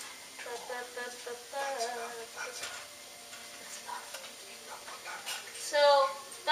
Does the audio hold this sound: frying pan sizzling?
yes